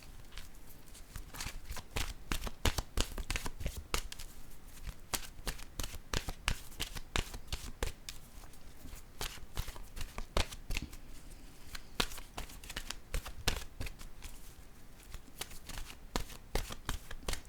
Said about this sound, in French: Je vais piger une carte de mon oracle de l'âme intuitive.